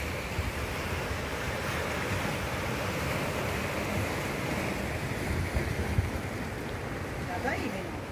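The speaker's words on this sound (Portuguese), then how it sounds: "que bonito aqui o mar lá embaixo, ó" Ocean surf rolls below a rocky beach cliff at Praia das Pedras, a constant broad wash of waves heard from above, mixed with steady wind buffeting the microphone throughout.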